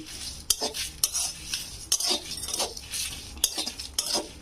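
Spices for mango pickle fry on low heat as a metal spoon scrapes and clanks against the pan in repeated sharp strokes, over a faint background sizzle.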